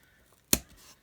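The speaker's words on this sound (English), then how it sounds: "And then I'm going to take my scissors" Scissors give one quick, close snip as they cut through paper while a composition book is being decorated.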